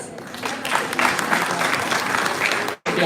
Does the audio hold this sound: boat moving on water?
no